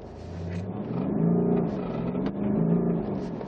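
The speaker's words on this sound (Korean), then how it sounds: "살짝 가속력 테스트 한번 해볼게요." A BMW diesel sedan's engine drones and rises in pitch as it accelerates, heard from inside, steady and moderately loud, with two rising sweeps.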